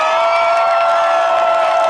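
Live concert crowd in Varna cheering, whooping and applauding after a pop song, a dense continuous roar of many voices and claps that stays loud and steady throughout.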